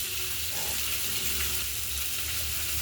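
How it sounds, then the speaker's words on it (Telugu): Fish shallow-frying in a pan gives a steady, continuous hiss and crackle of hot oil throughout, fairly even and close, with no speech over it. "ఇదిగోండి, చేపలు లైట్గా వేపాలి"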